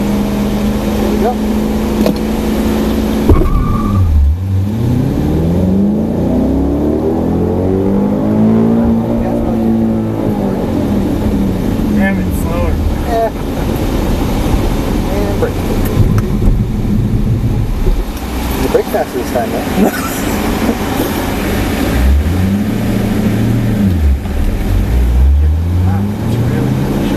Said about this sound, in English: Nail that gas pedal floor.